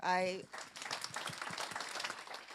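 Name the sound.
audience applause for the speakers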